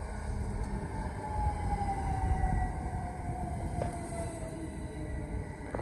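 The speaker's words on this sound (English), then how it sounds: "Oh, Dover Priory train's behind. Coming in now" A Class 375 passenger train rumbles into Sittingbourne station steadily with a long, slowly falling tonal whine, low rolling noise throughout and a brief clank near the end.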